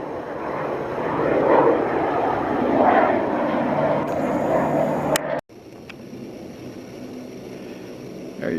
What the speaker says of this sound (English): looks like we got an arrival into Westhampton Airport.